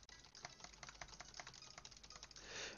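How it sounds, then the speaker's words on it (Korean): Computer keyboard and mouse clicking together, picked up by an omnidirectional wireless gaming headset microphone beside a tablet; quiet, steady rapid typing with scattered clicks, no speech. "마우스와 키보드 소리를 동시에 내보도록 하겠습니다."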